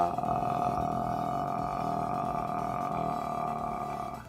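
A singer demonstrates vocal fry, the lowest vocal register, with a sustained creaky, crackling, poppy tone held steadily for about four seconds, close and fairly loud, with no other sounds.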